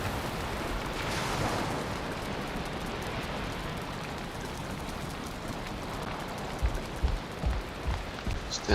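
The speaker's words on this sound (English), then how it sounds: "Still raining." Steady rain in the video game Valheim patters continuously as a dense, even hiss, with a few soft thumps near the end.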